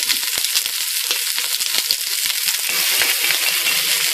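Food caramelizing in a hot pan gives a close, steady sizzle threaded with crisp crackles and pops that continue throughout without pause.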